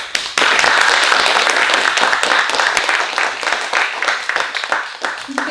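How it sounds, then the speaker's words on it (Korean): A bookshop concert audience breaks into loud applause for an author, clapping starting abruptly and holding dense and steady before tapering slightly at the end. "여러분 큰 박수로 우리 이하균 작가님께 애썼다고 다시 한번 좀 큰 박수 주셨으면 좋겠습니다"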